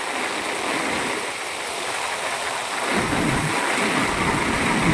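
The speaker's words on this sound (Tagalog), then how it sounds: "Sobrang lakas ang ulan" Heavy typhoon Egay rain pours down in Abra, a dense, loud and steady roar of water that grows even stronger toward the end, with no voices heard.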